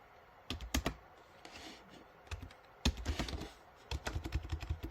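Close, quiet typing on a computer keyboard, with irregular clusters of key clicks and short pauses between bursts, as someone enters code.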